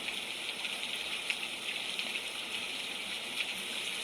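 Steady rain hisses on a very rainy day, a continuous wash of falling water with faint scattered drips and no voices.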